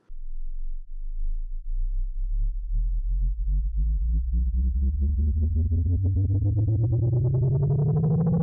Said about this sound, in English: I applied the soft overdrive preset